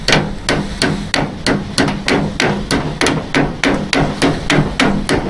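Hammer tapping a split pin out on an Austin Pathfinder during a restoration strip-down, a close, loud and steady run of about twenty sharp metallic taps in even rhythm.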